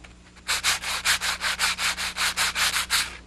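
A percussion instrument is rubbed in about a dozen quick, even strokes, each a dry, scratchy swish, heard close and alone against a quiet background.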